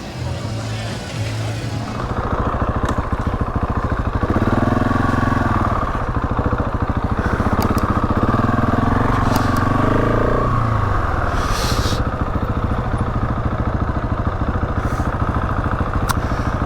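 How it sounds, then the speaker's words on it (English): Husqvarna 701 motorcycle engine idling, then revving and pulling away, a loud, close, continuous engine drone with shifting pitch. "I'm going to make my way back to the bike, and then I'll just go for a quick ride through here"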